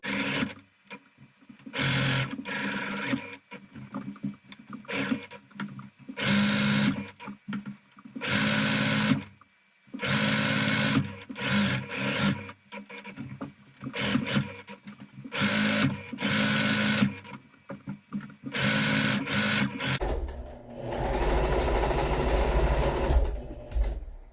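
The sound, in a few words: sewing machine stitching couch upholstery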